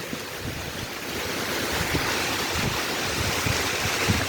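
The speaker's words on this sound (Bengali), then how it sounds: "কিন্তু প্রচুর বাতাস গাইস প্রচুর বাতাস" Strong gusting wind roars steadily at night during Cyclone Remal in Dhaka, a loud, dense, unbroken rush that swells slightly and never lets up, with no voices.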